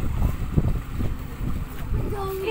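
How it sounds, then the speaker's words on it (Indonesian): Strong wind buffets the microphone at a harbour beach in Maumere, East Nusa Tenggara, during extreme weather with high waves, a steady low roar with gusts; a stranded boat lies nearby. "Anginnya kencang sekali."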